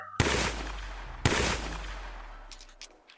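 Two loud revolver shots in the VRChat game Prison Escape, each a sharp blast with a long reverberant tail, followed by a few faint mechanical clicks.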